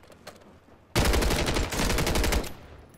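A loud, close, rapid burst of automatic gunfire from the Warzone 3 video game rattles for about a second and a half, then cuts off.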